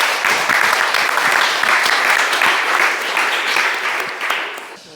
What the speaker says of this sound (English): let's give Anthony a fantastic round of applause